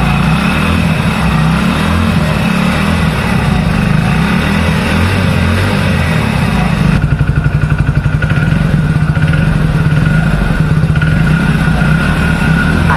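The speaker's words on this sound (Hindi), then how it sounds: "अब आप इसके इंजन का साउंड सुनिए और इसका एग्जॉस्ट नोट भी सुनिए" A Hero 100 cc commuter motorcycle idles close by, its single-cylinder engine and exhaust putting out a steady, loud, even chug that turns slightly more pronounced and thumping partway through.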